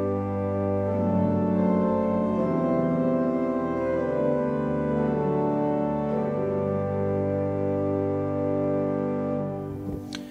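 Pipe organ in Knokke-Heist playing sustained 8-foot stops with the pedal coupled to the second manual and manuals coupled, a full, steady chord texture held loud throughout before releasing near the end.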